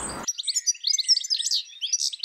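A goldfinch sings a rapid, bright stream of twittering, tinkling notes, close and clear, continuous through the clip after a brief opening fragment of speech.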